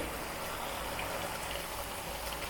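Chicken masala boils in a pan while its liquid reduces, giving a continuous close bubbling and hissing simmer that stays even and moderately loud throughout, with no voices.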